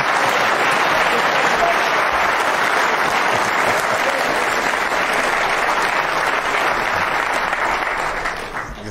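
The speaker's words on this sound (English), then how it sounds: "Gets a terrific round of applause." A snooker crowd at the 2009 World Championship gives a long, loud round of steady applause for a shot, sustained throughout and tapering slightly at the end.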